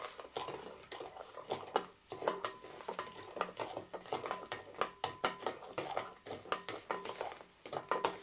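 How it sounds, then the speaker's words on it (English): Pineapple cake batter being stirred in a bowl, giving a steady run of quiet scraping, clinking strokes at a close distance, with no voices. "Just want to stir that thoroughly."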